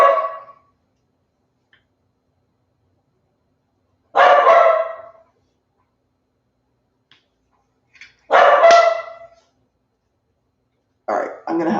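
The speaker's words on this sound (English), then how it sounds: "I'm going to have to go see what they're barking at." Several dogs bark in loud, separate bursts of about a second each, spaced by several seconds of silence, close by indoors with no talking.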